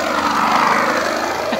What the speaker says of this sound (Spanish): Una botella de plástico y hace ruido, como que es moto.